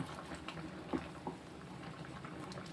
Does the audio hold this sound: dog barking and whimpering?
no